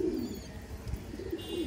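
A fancy pigeon with light-coloured eyes gives soft, low cooing calls, fairly quiet and close, in a few gentle pulses against a faint background, with no talking.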